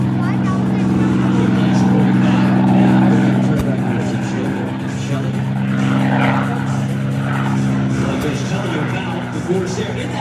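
An F4U Corsair's piston engine roars steadily at an air show as the warbird takes off, a loud, sustained drone with a deep harmonic hum, with voices talking over it.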